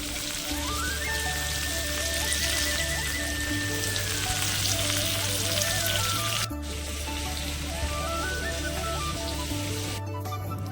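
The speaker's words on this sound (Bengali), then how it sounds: "তো এখন ফার্স্টলি আমরা ভাজাগুলো করে নিচ্ছি" Fish pieces deep-fry in a big pot of oil for a home wedding-eve feast, giving a loud, unbroken sizzling hiss. Steady tonal music plays over the frying throughout.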